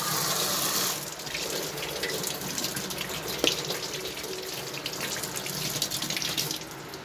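Running tap water pours steadily into a sink while two freshly picked leaves are rinsed under it, a close, continuous splashing gush with slight shifts in tone as the leaves move through the stream.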